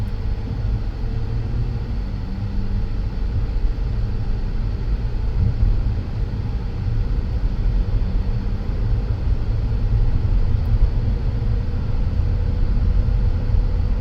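A 2011 Ford Explorer drives along, giving an even low road and engine rumble with steady tire noise throughout, no voices.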